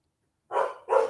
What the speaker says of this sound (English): Stop fucking barking.